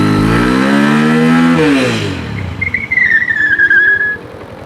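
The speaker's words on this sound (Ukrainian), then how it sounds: "Зараз ми спробуємо загальмувати заднім колесом і замірюємо, скільки в нас вийде шляху." Lifan CityR 200 motorcycle (2020) braking hard on its rear wheel from about 40 km/h during a stopping-distance test: the engine note falls away, then a rough scraping rumble with a thin high squeal trails off over a few seconds, close by.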